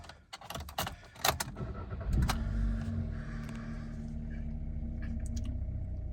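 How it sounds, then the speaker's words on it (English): A Skoda Rapid 1.2 petrol engine cranks and catches after some clicks and jangling keys, then settles into a steady, quiet idle hum. "I'm gonna start the vehicle."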